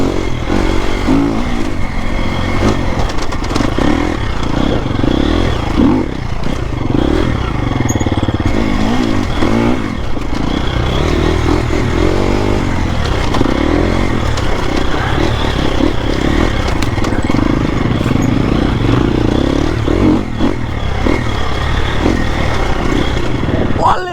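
Enduro motorcycle ridden along forest trails, its engine revving and rising and falling steadily throughout, with clattering and scraping over rough ground and people talking over the noise.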